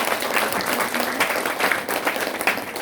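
A church congregation at a Sunday service applauds Ma Taeho and Seong Hyemi, with steady, dense clapping filling the room for a few seconds without speech.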